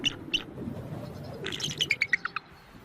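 In a snowy setting, an American eagle gives a high, thin call twice, then delivers a quick series of sharp, descending chirps over faint low background noise.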